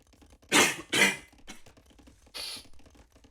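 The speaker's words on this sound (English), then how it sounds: "Apologies for the coughing and sniffling" A man under the weather coughs twice in quick, close bursts, then gives a faint sniffle and one more short cough, with quiet game sounds in the background.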